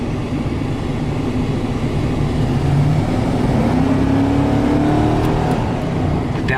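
A 2000 Chevrolet Silverado 2500 crew cab pickup drives down the road at moderate speed and low revs, its engine droning steadily from inside the cab with a slowly rising tone as it accelerates, loud and continuous.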